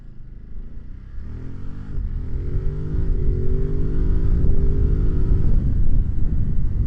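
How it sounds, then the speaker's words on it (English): A 2021 Ducati Monster 939+ motorcycle accelerates hard from a stop, its engine note climbing steadily in pitch and loudness through the gears, close and loud with no talking. "Hard acceleration from a stop."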